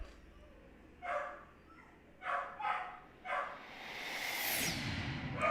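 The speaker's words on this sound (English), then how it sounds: "Dogs are going off again." Dogs at home bark in four short bursts, the middle two close together, moderately distant and not very loud, before a rising whooshing rush swells up and drowns out the background.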